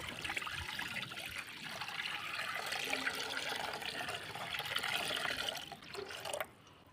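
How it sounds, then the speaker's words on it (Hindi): Water from a jug pours steadily into falsa sharbat for several seconds, a continuous close splashing and gurgling that cuts off abruptly near the end, with no talking. "एक जग पानी का शामिल करूँगा"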